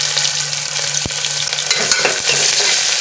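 Onions frying in oil with cumin, mustard seeds and curry leaves, a loud close crackling sizzle with scattered sharp pops and a few spatula taps against the pan.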